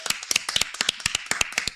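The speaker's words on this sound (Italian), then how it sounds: "un applauso alle mamme" A small group claps in quick, uneven bursts, close and lively, with no talking.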